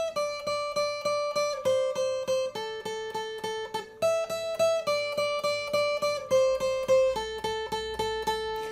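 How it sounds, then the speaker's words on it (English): Electric guitar plays the mandolin part of a song on the two bottom strings, rapid evenly repeated picked notes in a steady rhythm shifting pitch every couple of seconds, clear and alone. "you can do this mandolin part that I'm gonna show you right now"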